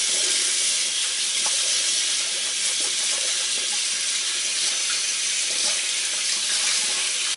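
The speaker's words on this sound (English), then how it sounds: "wet portion of makeup eraser, drenched, wet, use warm water" Warm water runs steadily from a tap to soak a makeup eraser, a close, bright hiss that continues unbroken and stops sharply at the end.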